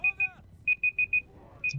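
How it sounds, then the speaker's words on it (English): An alarm in a room sounding a series of sharp electronic beeps in short irregular groups, loud and close, with a voice speaking around them. "that's my alarm."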